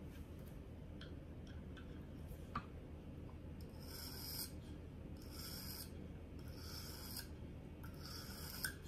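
A kitchen knife blade is sharpened on a KME sharpener, quiet and close, with a series of rhythmic rasping stone strokes, several longer distinct swipes in the latter half, and no talking.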